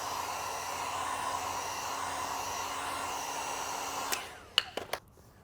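A heat gun blows hot air onto vinyl wrap on a Tesla Model 3 Highland's rocker panels, giving a steady close whooshing hiss that cuts off abruptly, followed by a few sharp clicks and taps.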